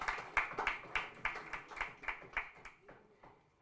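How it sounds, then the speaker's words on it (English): Light, steady clapping from a small group, about three claps per second, fairly quiet and thinning out toward the end. "A bit a round of applause for Dr. Million."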